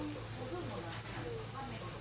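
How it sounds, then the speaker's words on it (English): Kalbi beef sizzling on a solo barbecue grill in Kobe, a close, continuous hiss and crackle of fat on the hot grate, with a voice speaking over it. "The sizzling sound makes it sound so delicious."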